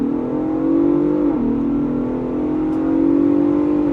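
A 2024 Ford Bronco Raptor launches hard off the line after brake boosting, its engine roaring loud and close and climbing steadily in pitch, with a brief dip at a gear change before pulling on.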